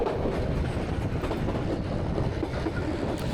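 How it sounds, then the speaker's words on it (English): Steady rumbling roar of a diesel locomotive hauling a Buenos Aires commuter train, heard from on board, with a continuous low drone and faint rhythmic clatter of wheels and wind. "the pleasure of travelling behind a powerful diesel locomotive, enjoying the sights and sounds that come with it"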